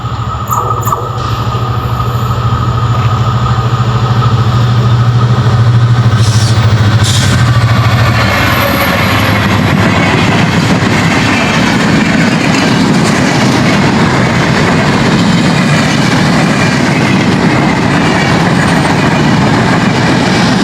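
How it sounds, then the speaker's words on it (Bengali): A train pulls into Jamdia railway station on the Dhaka–Padma Bridge–Jessore line, its loud, close low rumble growing into a continuous rolling clatter of wheels over rails, with a deep engine drone early on and faint high squeals. "একটি ট্রেন আসছে।"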